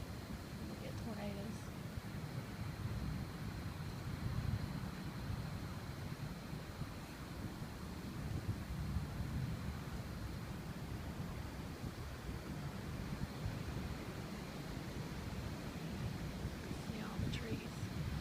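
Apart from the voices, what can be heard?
wind picking up during tornado storm in Alabama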